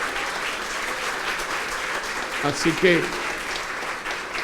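A church congregation applauds during a weekday Mass, a dense continuous clapping at fairly close range, with a voice briefly speaking over it near the end.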